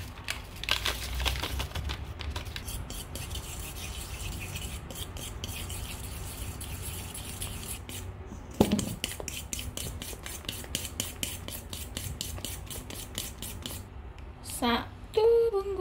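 Eggs and sugar whisked in a bowl, a fast rhythmic ticking and scraping of the whisk against the sides, steady and close, with a brief clatter near the end.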